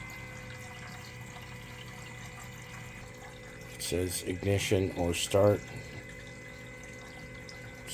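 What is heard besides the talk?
diesel water heater coolant circulating through reservoir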